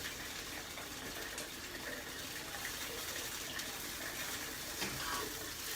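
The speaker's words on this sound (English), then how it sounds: "Run that water so it's nice and hot." Hot water runs steadily from a kitchen tap, a continuous broadband gush filling the whole stretch at moderate, even loudness with no voices over it.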